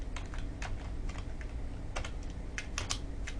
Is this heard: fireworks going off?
no